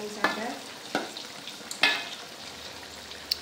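Spicy chicken feet, ceker ayam mercon, frying in a pan are stirred with a utensil, giving several sharp scraping knocks over a soft, steady sizzle close by.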